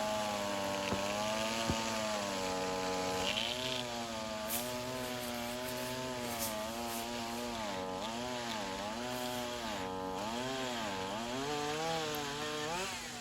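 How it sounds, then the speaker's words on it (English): A gas-powered chainsaw runs continuously while carving a wooden gnome, its engine pitch rising and falling as the bar bites into the wood, loud and close throughout with no talking. "it had no way it would be able to cut through like this gas-powered saw does"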